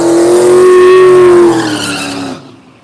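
A drag race car at Tulsa Raceway Park, set for an eighth-mile pass, roars loud and close with a high steady engine tone that holds and then falls away as it pulls off down the track.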